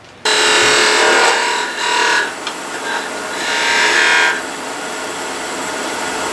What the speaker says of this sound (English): when I'm using a skew on a little piece of stuff like this, I always start at the skinniest end and work back towards the headstock